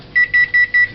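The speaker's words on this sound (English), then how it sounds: "it's beeping away" An oven timer chimes after 15 minutes of baking a Jamaican-style cornmeal pudding, four quick, loud, evenly spaced electronic beeps alone in a quiet kitchen.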